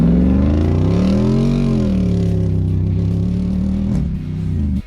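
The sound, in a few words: Jeep Wrangler Rubicon 392 accelerating hard off-road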